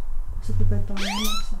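An emergency distress device sounds a rising electronic alarm tone inside a house, a short warbling sweep heard under a voice speaking French.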